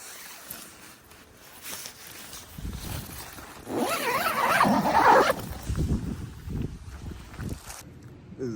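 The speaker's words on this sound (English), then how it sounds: "Let me zip this." A zipper is pulled in a few quick rasping strokes near the middle, with rustling and outdoor background noise around it on the Appalachian Trail.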